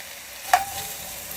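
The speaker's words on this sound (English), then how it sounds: "give it a little stir" A spoon stirs vegan Hungarian goulash in a pot, making a single short clink against the side over a quiet background.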